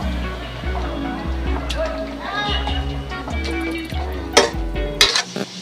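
Spinach chorchori cooked with fish head and fish oil is scooped from a pan onto a plate, with repeated scraping and clinking of a metal spoon against the pan, and sharper taps near the end.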